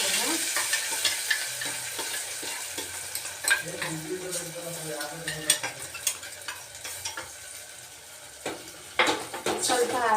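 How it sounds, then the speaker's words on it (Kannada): Mustard seeds, cumin and masala sizzle and fry in a pan for a bean palya, with steady crackling and occasional stirring scrapes, fairly close and continuous. "ಸ್ವಲ್ಪ ಹಾಗೆ ಫ್ರೈ ಮಾಡ್ತಾ ಇದ್ದೀನಿ"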